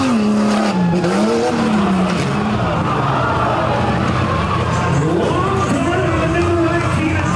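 A Jeep XJ tough truck races across a beach course, its engine roaring loud and close in a continuous drone. The pitch climbs and dips as it accelerates, with rough tire and surface noise throughout.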